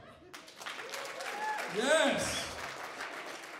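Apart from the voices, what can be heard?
audience clapping at comedy show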